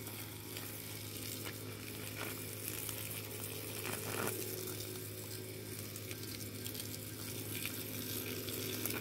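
Water sprays onto garden plants, including guava and a red Vietnam avocado tree, as a steady hissing rush of moderate loudness that runs the whole time with no talk.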